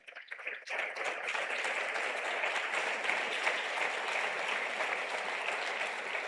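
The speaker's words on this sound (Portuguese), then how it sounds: "Você pode aplaudir o Senhor?" An evangelical church congregation applauds the Lord after the sermon, scattered claps quickly building into steady, full applause that carries on evenly, moderately distant in a large hall.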